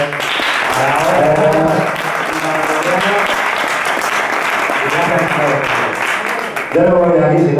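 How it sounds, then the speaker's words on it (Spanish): Audience at a Spanish talk and performance event applauding loudly and continuously for about seven seconds, a broad dense wash of clapping with a brief dip near the end before it swells again, a voice faintly audible underneath. "Un aplauso"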